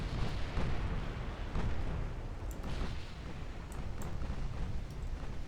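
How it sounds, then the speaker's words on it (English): A torpedo strikes a ship in the naval strategy game Ultimate Admiral Dreadnoughts, producing a continuous deep rumbling boom with dull thuds and crackling debris bursts through most of its length. "Torpedo hit."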